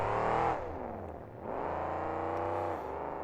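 A monster truck engine roars steadily at high revs at a 2007 show in Salinas, California, dipping briefly and then surging again, loud and close with a heavy rumbling low end.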